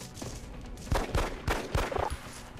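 Several separated gunshot bursts from the XCOM video game in the Japan mission, set against a busy background of game noise.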